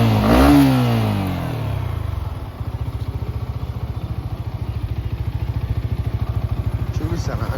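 A motorcycle engine starts and revs up loudly, then settles into a steady, rhythmic idle putter that continues throughout, heard close by with no talk.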